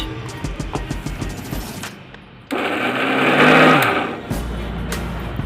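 Mixer grinder grinding soaked dal with green chilli, turmeric, salt and ginger paste for vada batter; a sudden loud whirring burst mid-clip that rises and then cuts off, bracketed by quieter clattering and handling sounds.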